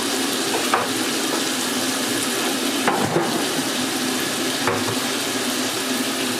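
Prawns sizzle steadily in a hot frying pan, a constant crackling hiss with a few faint clinks.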